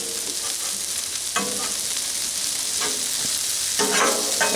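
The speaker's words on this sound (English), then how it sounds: "Make sure they're all laid out in a single layer, so you make sure all those potatoes and peppers can cook evenly." Potatoes and peppers fry steadily on a Blackstone griddle set to low, a continuous close sizzle broken by a few scraping spatula stirs, with no voices.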